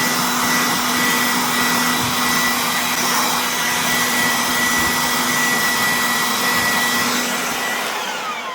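An Aoetree 20V cordless jobsite blower runs steadily at close range, a loud continuous airy whoosh with a faint motor whine and no pause or talking throughout.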